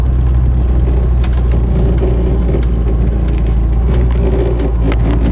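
A Ford F150 pickup truck drives along the road with a loud, steady low engine rumble and road noise from inside the cab, with no talking.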